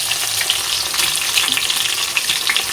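Egg frying in a pan in a home kitchen, producing a dense, bright crackling sizzle with scattered sharper pops, close and steady throughout the short stretch.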